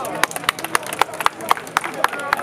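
Audience at a boxing gala clapping in a loose, steady rhythm of sharp claps, with a murmur of crowd voices beneath.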